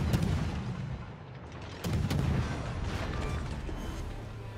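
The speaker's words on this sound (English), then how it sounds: "Concentrate fire on the enemy warship." Warship guns in World of Warships fire in repeated heavy booms over a dense, rumbling battle din, with a strong blast at the start and another partway through.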